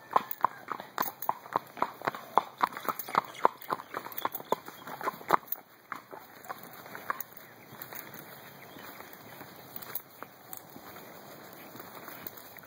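Horse hooves clop along a backcountry trail on a horseback ride in Kauai, rhythmic and fairly close at first, then softer and more scattered over a steady background hiss.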